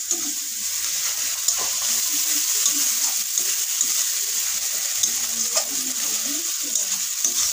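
Ginger paste hits hot oil in a pan for a shutki fish bharta, giving a steady, loud, even sizzle throughout, with faint clinks and stirring underneath.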